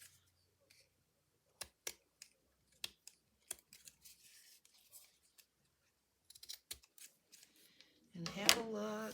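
Scissors trim an index card tag as a series of sharp, separate snips spread across the stretch, close by and fairly quiet, ending in a louder burst of rustling handling.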